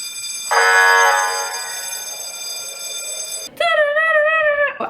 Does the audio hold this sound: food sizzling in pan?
no